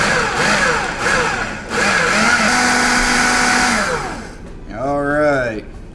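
A food processor whirs loudly while mixing turkey salad, its motor pitch rising and falling in steady bursts for several seconds, briefly cutting out near the end before spinning up again.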